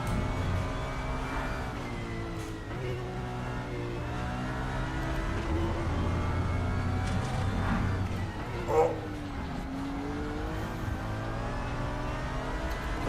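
Porsche GT3 race cars in the RaceRoom sim on the Nordschleife, engines droning and whining through gear changes with a rival car close behind, while someone talks over the racing.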